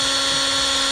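Power drill whirring at a steady high pitch during a shift light install on a Foxbody Mustang, one continuous close whine with no voices over it.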